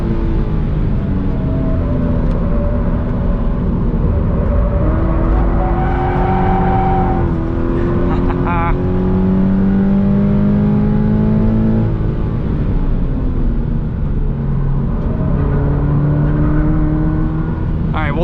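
A 2020 Toyota 86 engine drones and revs through gear changes on a race track on Michelin Primacy tyres, loud and continuous from inside the cabin, with someone talking over it at times.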